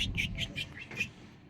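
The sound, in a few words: bird chirping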